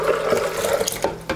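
Filtered water pours steadily into a container or blender for homemade almond milk, a close, bubbling stream with a few splashy surges near the end.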